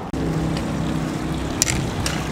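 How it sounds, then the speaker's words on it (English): A river runs through a hiking trail tunnel, giving a steady, close, low rushing rumble of water that echoes, with a couple of faint brief clicks over it. "a river runs through"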